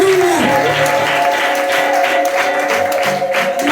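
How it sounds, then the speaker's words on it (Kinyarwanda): A church congregation at a Ugandan gospel gathering claps for God, a dense, steady wash of applause mixed with voices and sustained musical tones throughout. "Reka twongere Imana yacu amashyi."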